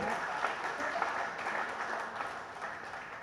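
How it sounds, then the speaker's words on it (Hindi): Audience applause at a Hindi kavi sammelan poetry gathering, a steady dense wash of many hands clapping that holds evenly for about three seconds with no voices on top. "एक बार तालियां बजा दीजिए राजेश अग्रवाल के लिए"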